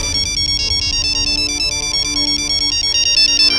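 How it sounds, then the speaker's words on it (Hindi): A phone ringtone rings loudly and steadily for several seconds in a home setting, a bright repeating electronic melody with no talk over it. "पापा का फोन है।"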